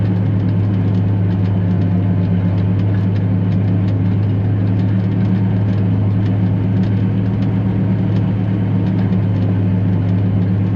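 A tractor engine runs steadily at close range, a deep, even rumble with a strong low hum and no pauses, working near a chopper in the field.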